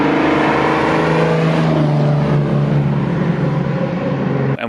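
A Datsun Fairlady with an SR20DET engine climbs a hill on the Great Western Highway, its engine droning loud and steady from inside the car, pitch gradually rising before a sudden cutoff at the end.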